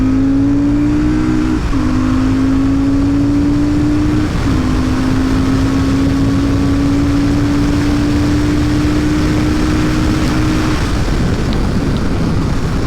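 A Royal Enfield Super Meteor 650 motorcycle pulls hard in second gear from about 60 to 120 km/h. The loud, steady engine note climbs in pitch, dips briefly at two shift-like breaks, then keeps rising with wind roar throughout.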